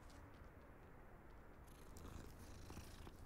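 A cat purrs in the Hogwarts Legacy video game, a soft, steady, low rumble heard close up and alone.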